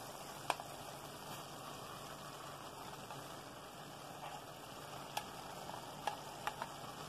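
Tomato and spinach sizzle softly in a frying pan, a low steady crackle with a few sharp pops and clicks from stirring scattered throughout.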